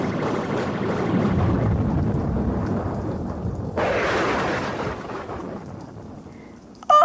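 Steady rain pours through a stormy night while a deep rumble of thunder builds and rolls in partway through, loud and close, with the downpour continuing underneath.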